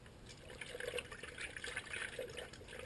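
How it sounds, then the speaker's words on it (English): Coolant trickles and gurgles as it is poured into the reservoir of an Infiniti G37, a faint, steady liquid splashing heard up close with no talking. "So I'm going to pour just a little bit more in, I think."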